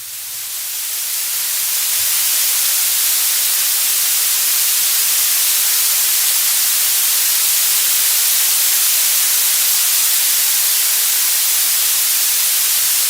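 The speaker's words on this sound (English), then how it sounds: "this is just a recording of the sort of signal we pick up with that telescope" A radio signal picked up by the Lovell radio telescope, rendered as a steady, loud broadband static hiss that swells in over the first second and holds evenly to the end, with a faint low hum beneath and no voices.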